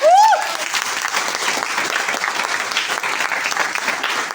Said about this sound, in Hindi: तो एक बार जोरदार ताली कोच के लिए बजा सकते हैं।